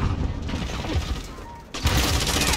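Gunfire in Call of Duty Modern Warfare with a 12-gauge shotgun, a dense crackle of shots with a loud burst near the end, heard close with no talking.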